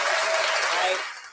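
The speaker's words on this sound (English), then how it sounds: "Round of applause for the co-host, Larry Girl." Audience applause for a podcast co-host, a brief loud burst of clapping that fades out quickly at the end.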